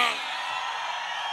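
A crowd at a sonidero dance in Toluca lets out a brief burst of shouting and whooping, a dense, loud roar lasting just over a second.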